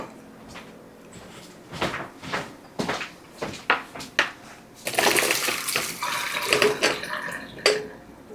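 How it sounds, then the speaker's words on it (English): Cooked carrots are drained in a kitchen, with a run of clanks and knocks from pot and lid, then a rush of splashing water and clattering near the end, close and moderately loud with no talking. "I'm going to drain my carrots now."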